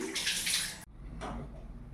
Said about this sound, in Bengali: হাতটা একবার ধুয়ে নিই